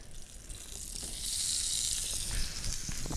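Fish sizzles face down in an oiled skillet with a steady close hiss that swells once the fillet settles into the hot oil.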